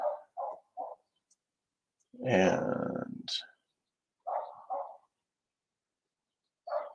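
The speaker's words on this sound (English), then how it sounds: "you can hear my dog barking in the background." A dog barks in the background of a garage with the door open, several short clustered barks in bursts, moderately distant, with someone speaking briefly between them.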